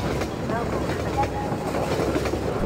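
Train cars rolling past in Half-Life 2, a steady loud rumble with rhythmic wheel clatter and faint metallic squeals, continuous and close throughout.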